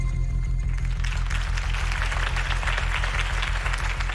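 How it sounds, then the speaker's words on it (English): Crowd applause after a campaign speech for Harvey Dent in a Batman game, steady dense clapping over a low rhythmic music bed, building in the first second and then holding loud throughout. "could have heard that applause"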